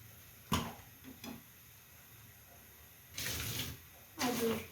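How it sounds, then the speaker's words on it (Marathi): Water is poured from a tap over a kitchen gas chimney blade during washing, heard as a few short splashes and then two longer gushing bursts close by. "दुसरं जे ब्लेड त्याच्यावर पाणी टाकते"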